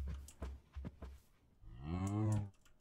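A cow in a video game moos once, a long low drawn-out call, after a few soft thumps and clicks.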